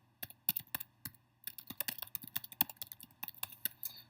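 A computer keyboard clicks close up as a query string is typed for a Visualforce JavaScript app, with quick irregular bursts of keystrokes, some pauses between words and a faint steady hum underneath.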